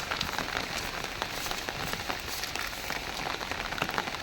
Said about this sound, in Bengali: দেখেন কি পরিমাণ বৃষ্টি, এখনো পর্যন্ত বৃষ্টি চলতেই আছে।